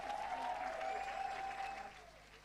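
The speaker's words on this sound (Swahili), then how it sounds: "let's clap until she gets on stage" Audience clapping at a women's gathering as a guest is called up to the stage, a faint, brief burst of applause that trails off toward the end, heard alone.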